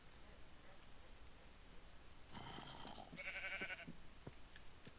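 Sheep bleating in a video game, one short nasal bleat followed by a higher wavering call, faint against a quiet background hiss.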